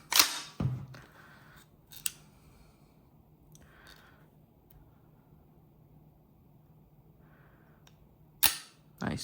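An airsoft HK416A5 rifle gets a dry trigger pull and reset, heard as a few sharp, close mechanical clicks and snaps with a quiet stretch between them.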